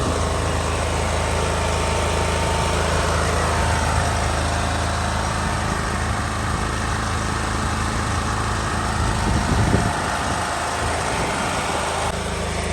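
A home generator engine running on gas, a loud, steady, close-up mechanical drone that holds even throughout with only a slight rough swell near the end.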